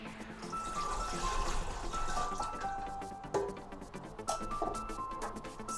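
Water pouring into the pan of a Redmond RMB-M1907 bread machine for whole-grain bread, a steady splashing trickle with a few drips, fairly close and alone.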